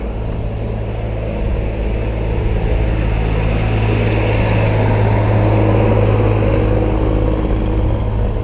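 Car engine of an Audi or BMW running close by, a loud steady low drone with a faint rising hum partway through, no voices.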